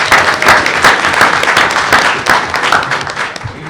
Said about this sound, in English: Give y'all a round of applause.